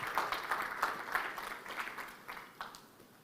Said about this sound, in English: Let's give His Excellency, the Deputy President, a warm round of applause as he makes his way.